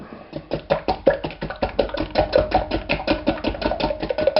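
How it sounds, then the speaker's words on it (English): Quick, steady whisking of sugar into a sugar-free chocolate almond ice cream mixture in a bowl: a continuous run of close, evenly paced strokes with bright scraping clicks, loud and alone without talk. "whisk in the sugar."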